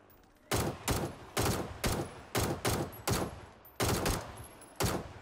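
Rapid bursts of gunfire at zombies in PUBG, a rhythmic series of loud repeated shots, regular and close, with no talking.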